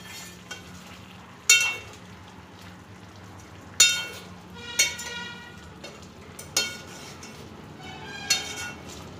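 Petha being stirred in melted sugar syrup with cardamom powder in a pan, giving soft continuous bubbling and scraping with a few sharp spoon clinks against the vessel at irregular intervals.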